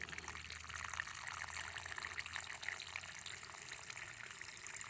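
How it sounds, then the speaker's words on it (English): Water pours from a small watering can into a planting hole dug for a tomato, making a steady, close splashing rush that runs without a break and with no talk. "So I've got my little watering can here. I'm going to throw some water in there."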